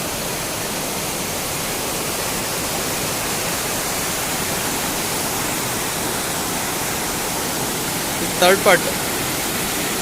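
Water rushes over Benki Falls in a constant, loud, even roar, with a brief voice speaking near the end over the flow.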